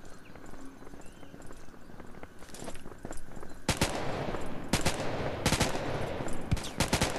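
Gunfire in the mobile shooter Modern Strike Online, with sharp bursts of shots starting past the midpoint, rapid cracks in quick clusters over a busy game soundscape, no talking.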